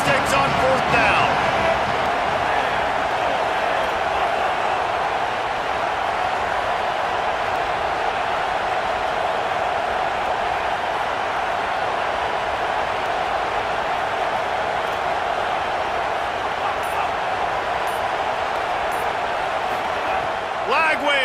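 A college football video game stadium crowd, Baylor against Arkansas, roars as a dense, continuous wall of noise throughout, with a commentator talking over it.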